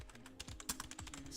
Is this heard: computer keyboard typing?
yes